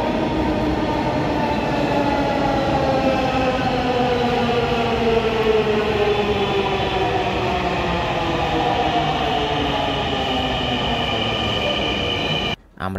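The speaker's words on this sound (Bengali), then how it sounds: "অবশেষে ট্রেন চলে আসছে।" A metro train pulls into an elevated station platform on the Mirpur Pallabi to Uttara line, its loud, steady rumble and rising electric whine filling the scene nearby before cutting off abruptly at the end.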